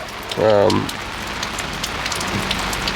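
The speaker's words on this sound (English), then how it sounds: "The rain isn't getting any lighter, that's for sure. It's still coming down pretty hard." Heavy rain on a truck-camping trip in the Baltics, a dense steady hiss of drops pattering on surfaces throughout, briefly overlaid by a short voiced sound near the start and a faint tone later.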